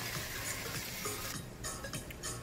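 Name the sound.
stirring ofada stew in a pot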